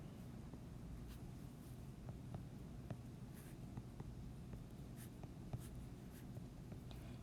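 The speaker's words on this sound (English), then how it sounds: "I'm going to draw that Punnett square here" A pen scratches across paper while drawing a Punnett square, a quiet run of short strokes and taps over a low room hum, no one speaking.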